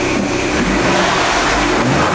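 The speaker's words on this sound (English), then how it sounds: "I love that blow-off valve." A car engine revs hard and steady, loud and close, with a Turbo Smart blow-off valve fitted and the car just back from new spark plugs; the revving holds without a break and nobody speaks.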